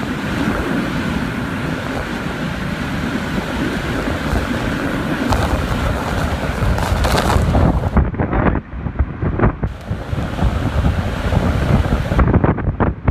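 Hurricane Michael's eyewall winds roar continuously in a loud, dense rush of wind buffeting the microphone, with brief gusty dropouts and surges near the end and no talking.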